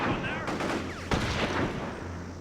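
Gunfire in the Psi-Ops video game, a dense spread of rapid shots and impacts running through a busy game mix with a low steady hum beneath.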